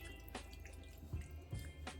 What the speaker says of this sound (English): wash them off underneath some cold water